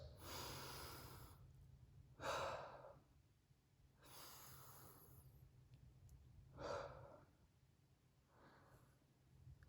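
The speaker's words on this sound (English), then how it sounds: "Deep breaths." Dancers in a contemporary dance class take slow, deep breaths, several long audible inhales and exhales in a steady rhythm, soft and close with no talking.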